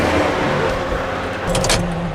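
A car motor running close by, a steady broadband rumble and hiss with a brief brighter rise near the end.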